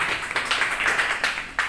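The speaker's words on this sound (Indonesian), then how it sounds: "tepuk tangan dulu buat Pak Harmen yang sudah mendapatkan uang kaget" Audience applause and clapping at an Indonesian tabletalk event in Bandung, steady and fairly loud for the whole stretch, with a few sharper swells, and no speech over it.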